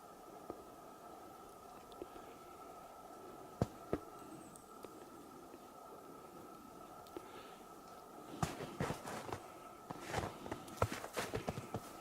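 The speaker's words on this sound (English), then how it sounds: "I do still hear something up the hill though. Like, yeah, like footsteps." Faint, distant footsteps move up a wooded hillside, with soft irregular crunches and rustles over steady outdoor hiss. They grow denser and a little louder toward the end.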